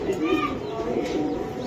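A Giribaz pigeon coos in low, rolling notes nearby while a person's voice is also heard.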